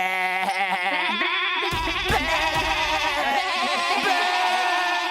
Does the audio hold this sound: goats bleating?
yes